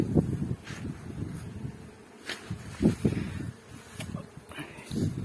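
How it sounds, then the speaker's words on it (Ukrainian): A steady hum of many bees buzzing around hives in an apiary, with occasional closer passes and rustles over a constant drone. "Бджоли гудуть, всі вулики літають."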